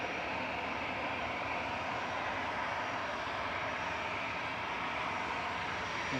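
A Ryanair airliner rolls for takeoff at Manchester Airport, its jet engines giving a steady, loud, broadband roar that holds evenly throughout with no voices.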